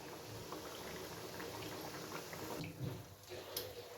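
Thekua frying in oil on a low flame: a faint, steady bubbling fizz that continues throughout, soft and even, with a few small pops.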